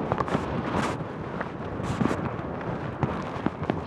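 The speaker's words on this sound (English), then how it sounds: "Oh my goodness, it's windy." Strong wind of about twenty miles an hour on a hill trail outside Livingston, Montana, buffets the microphone in loud, irregular gusts and rumbles, with sharp crackling bursts throughout.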